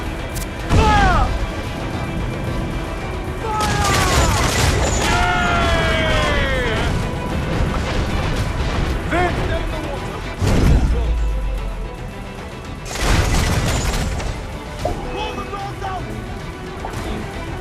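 Cannon fire from a pirate ship battle in Assassin's Creed IV Black Flag, several heavy booming volleys and crashes at irregular intervals over creaking and sea noise, loud and near, with shouted voices in between.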